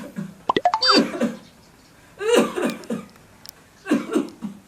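Repeated coughing from a person complaining of a bad cough and sore throat, sounding as a short rapid cluster of harsh coughs followed by two more separate bursts, close and fairly loud with no talk.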